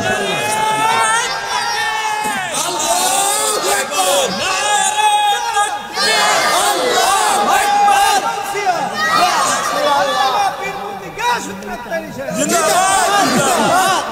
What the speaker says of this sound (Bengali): যুবক ছেলেরা কোথায় আছেন আপনারা? একটা স্লোগান দেন তো ইনশাআল্লাহ।